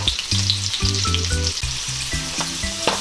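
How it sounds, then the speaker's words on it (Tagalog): Onion and garlic sauté in a hot pan for pork with ampalaya, a continuous crackling sizzle heard close, with a few soft clinks and stirring scrapes mixed in. "Ngayon po ay igigisa na naman natin itong ating sibuyas at saka bawang."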